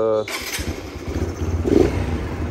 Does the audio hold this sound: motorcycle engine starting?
yes